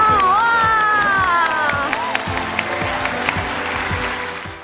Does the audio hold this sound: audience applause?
yes